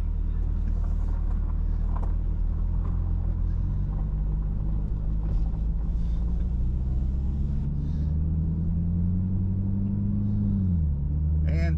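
A car drives across a wooden covered bridge in Wyandot County, Ohio, heading south, giving a steady low engine and road rumble throughout with a rising tone near the end, and no voices.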